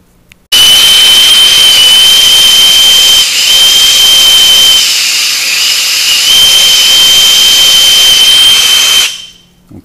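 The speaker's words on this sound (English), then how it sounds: "now we have to solder that in" A gas torch roars steadily and loudly while heating copper suction tubing for soldering on a leaking Viking Professional wine cooler, with a sharp whistling hiss riding on top and a slight dip in the middle before it cuts off.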